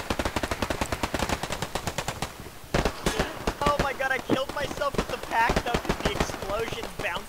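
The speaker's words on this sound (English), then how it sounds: "They just have friendly machine gunner fucking light me up" Rapid bursts of friendly machine-gun fire in the online war shooter Hell Let Loose rattle loud and close in long rhythmic strings, broken by a brief pause, with someone talking over the later shots.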